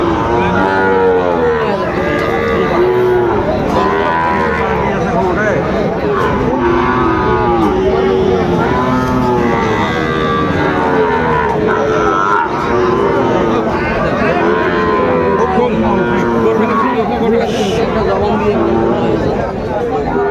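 Cattle, including Sahiwal bull calves, moo repeatedly over a busy cattle market crowd in Dinajpur, voices chattering and overlapping throughout in a loud, bustling scene.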